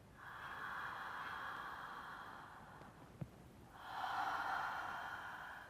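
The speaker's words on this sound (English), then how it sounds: "circular connected breath without pauses between the inhale and the exhale, or the exhale and the inhale" Circular connected breathing flowing without pauses, a long airy exhale with a soft click midway, then a fuller, louder inhale, intimate and continuous.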